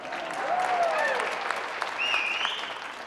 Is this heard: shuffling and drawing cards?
no